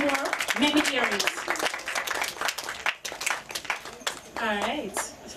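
Party crowd at a 90th birthday celebration clapping and cheering over a lively mix of voices and shouts, the applause filling the room for several seconds and then giving way to more loud chatter.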